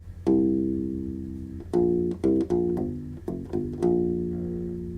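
A bass ukulele plays a short syncopated minor hip hop riff, plucked notes ringing with funky gaps between phrases, clear and close with no voices.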